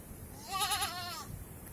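A single goat bleats in a farmyard, a clear wavering cry of about a second rising out of quiet outdoor background, close and fairly loud.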